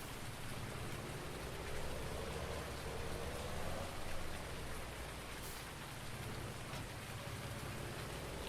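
Rain falls steadily on a farm tractor out in a field, a dense, even patter and hiss that stays soft and constant throughout with no voices.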